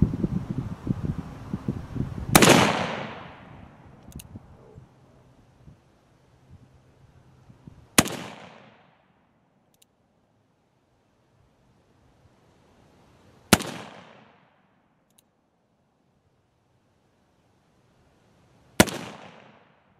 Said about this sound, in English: let's shoot, take some shots on range and see what happens.